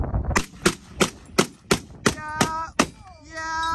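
Outdoors at a shooting range, a gun fires a rapid string of about eight sharp, evenly spaced shots, followed by a short tonal voice-like sound at the end.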